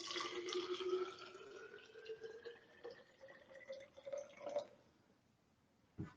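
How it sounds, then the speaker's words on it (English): Tap water poured into a filtration bottle, the filling tone rising steadily in pitch as the bottle fills, with drips and trickles before it tapers off; quiet and close. "we're going to take tap water and pour it into here."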